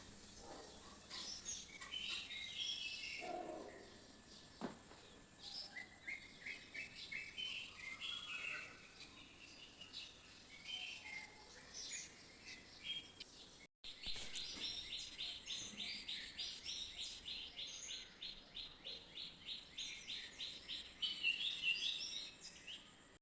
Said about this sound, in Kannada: ಆ ಪಕ್ಷಿಗಳ ಸೌಂಡೆಲ್ಲ ತುಂಬ ಚೆನ್ನಾಗಿ ಕೇಳಿಸ್ತಾ ಇತ್ತು.